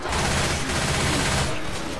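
Dense gunfire rattles through a Left 4 Dead 2 round on the No Mercy campaign, a loud continuous burst of rapid shots that eases slightly near the end.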